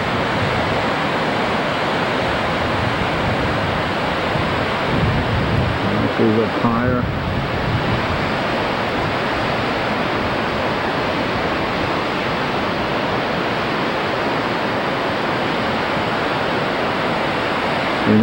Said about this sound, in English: I think you can hear the river now.